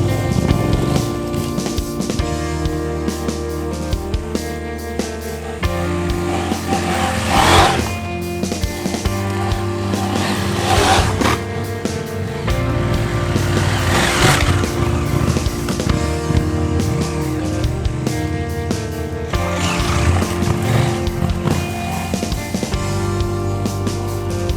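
Adventure motorcycle ridden through deep dirt ruts, engine droning loud and close with repeated surges of throttle and rough, scrabbling bursts throughout.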